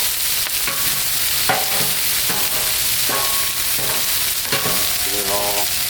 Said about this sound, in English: Go ahead and give our tomatoes a turn as best we can.